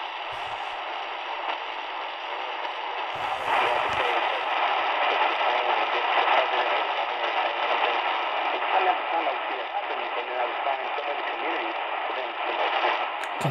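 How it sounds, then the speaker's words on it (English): AM band reception at night on a SilvaBRYSON AM/FM weather band radio near Chicago, a steady wash of hissy static and faint, distorted station audio, with a brief burst of tuning noise early on. "let's hear what it sounds like on the AM band in the evening"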